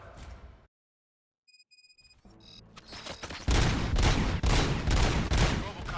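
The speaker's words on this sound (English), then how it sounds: "Gunshots? What's going on?" A brief silence and some electronic beeps, then loud rapid bursts of gunfire rattle on continuously, synthetic game shooting from RoboCop: Rogue City on PS5.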